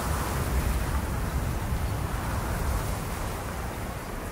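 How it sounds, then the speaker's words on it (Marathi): Steady wind rushing across open countryside ahead of monsoon rain, a continuous broadband roar with low gusty rumble that holds fairly even throughout, no voices. "वारा रानाची अंग गुसळू लागला."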